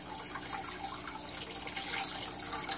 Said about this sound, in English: Now instead of taking it out, it's actually putting water back in.